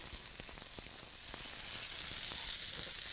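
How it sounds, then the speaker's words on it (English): Garlic sautés in a hot pan with a steady, even sizzle and faint crackles throughout, close and moderately quiet, with no voices. "You just want to saute the garlic for about 10 to 15 seconds."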